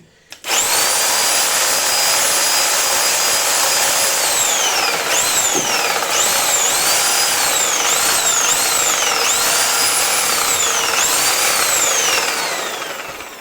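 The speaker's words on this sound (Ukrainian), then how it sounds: "давайте дамо її максимальні оберти" A reciprocating saw starts up and runs loudly at maximum speed, a steady whine with repeated sweeping pitch changes as it works, then winds down.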